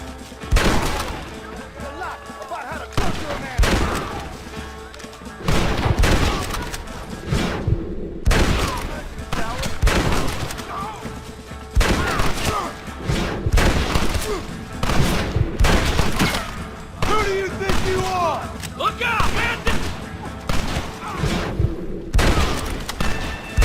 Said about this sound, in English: Get ready to hold off their fire, Marston.